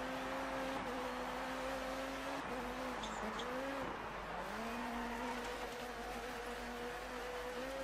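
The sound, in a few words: rally car spinning out in DiRT 4 video game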